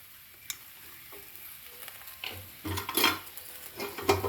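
Besan and green chili fry over a high gas flame for a besan bhindi sabzi. A close crackling sizzle with scattered stirring clicks grows louder and busier toward the end.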